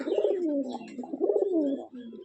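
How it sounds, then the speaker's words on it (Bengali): A male Rajshahi Giribaz pigeon coos close by in two rolling, throaty phrases followed by a shorter trailing note, alone and fairly soft. "নটার ডাক পাগলা ডাক"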